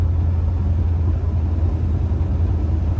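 A restored 1963 Rambler Classic Wagon on its first shakedown run rolls down the road with a steady, loud low engine rumble and constant road noise, with no one talking.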